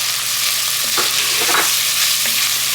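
Dried basil and dill are stirred into a sizzling pan for cauliflower soup, giving a loud steady frying hiss with a few soft scraping strokes of the spoon and no talking.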